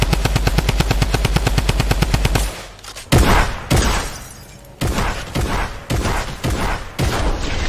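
Fortnite gunfire: a rapid automatic burst of evenly spaced shots for over two seconds, then a series of loud, separate heavy blasts such as shotgun fire with ringing tails, close and dominant.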